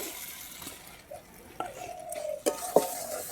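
Potatoes and spices stirred in a frying pan with mustard seeds, a soft low sizzle under scattered spatula scrapes and a few sharp metallic clinks against the pan, close and fairly quiet.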